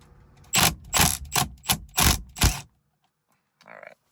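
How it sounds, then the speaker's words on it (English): A 14mm socket wrench loosening the steering wheel bolt on a Honda AP2 S2000, six loud close ratcheting bursts in quick rhythm, then a pause and one shorter softer burst. "you can get a 14mm socket, remove this"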